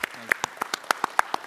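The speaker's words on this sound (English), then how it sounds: "Let's give them a round of applause" A panel audience claps steadily, a dense patter of many hands with a few louder individual claps standing out.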